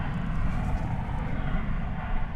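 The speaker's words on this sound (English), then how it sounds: "We've got this aircraft, a 737-800." A Boeing 737-800 arriving at DFW Airport gives a steady, loud jet rumble with broad engine roar, sustained throughout without pause.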